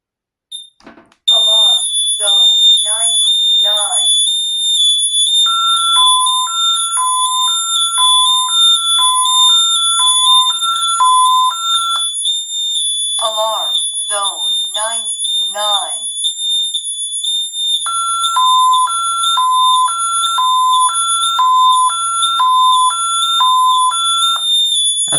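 An ADT Safewatch Pro keypad panic alarm sounding loud and close, a piercing steady high tone overlaid with repeating two-note warbling beeps and rapid pulsed bursts.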